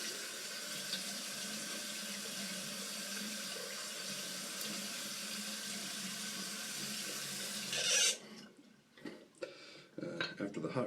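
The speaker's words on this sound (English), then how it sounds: "At this point, I perform a hot rinse." Hot water runs from a sink tap as a steady close rush for about eight seconds during a straight razor shave with a Dovo Shavette, then stops, followed by brief splashes and handling clatter.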